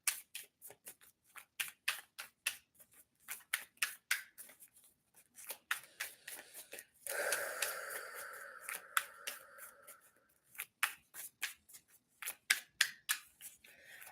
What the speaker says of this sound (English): let me continue shuffling